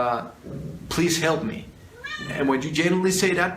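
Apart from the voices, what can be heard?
cat meowing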